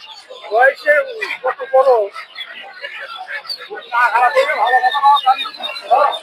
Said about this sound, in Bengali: আপনারা এই হাটে আসলে প্রচুর দেশি মুরগি দেখতে পারবেন